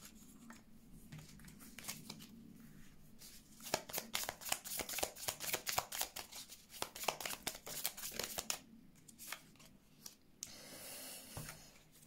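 A deck of tarot cards being shuffled close up, quiet at first, then a rapid run of crisp riffling flaps and taps in bursts, ending with a brief soft rustle.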